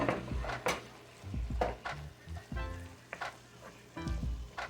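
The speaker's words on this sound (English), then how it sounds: "Let's get that all mixed up together." Chili of ground beef and beans sizzles in a pot while being stirred, with irregular scraping and clanking of a spoon against the pot over a low steady hiss, up close and quiet.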